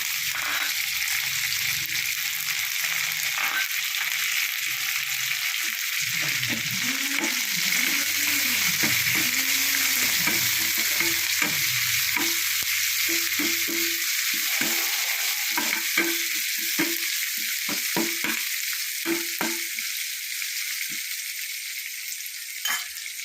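Mustard seeds, coriander leaves and curry leaves sizzle in hot oil as a tempering for Kerala tapioca biriyani, a steady close frying hiss lasting throughout, with scraping stirs and light clinks in the second half.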